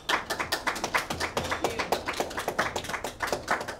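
Audience clapping at a meeting, a brisk run of close, sharp hand claps in fairly steady rhythm throughout, with no voices over it.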